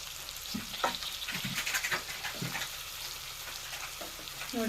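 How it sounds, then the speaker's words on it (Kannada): Stuffed brinjal frying in hot oil in a kadai pan, a steady close sizzle with bursts of crackle and spatter as the pieces land and settle, no voices. "ಈಗ ಒಂದು ಕಡಾನಿಗೆ ಒಳಗೆ ಹಾಕಾಕತ್ತೀವ್ರಿ ಎಣ್ಣೆ ಒಳಗೆ ಚಲೋ ತಂಗಿ ಫ್ರೈ ಮಾಡ್ಕೊಳ್ರಿ"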